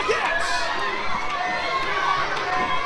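A steady roar of cheering and shouting from a live wrestling crowd at the Fresno Fair, dense and sustained for the whole stretch with no individual voices standing out.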